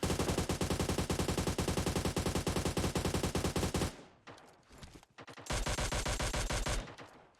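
Rapid automatic gunfire from PUBG Mobile, a loud sustained burst that breaks into scattered shots after a brief lull, then resumes in another dense volley.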